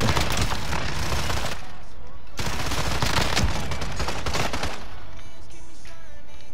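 Rapid automatic gunfire from a weapon fitted with an 80-round drum magazine in Call of Duty: Modern Warfare, two dense sustained bursts ringing close and loud before tailing off into a quieter stretch.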